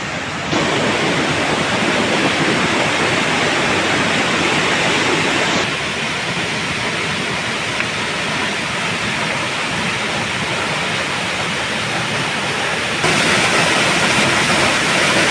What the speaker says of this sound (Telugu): మనం దగ్గరికి వచ్చేసాం వాటర్ ఫాల్స్కి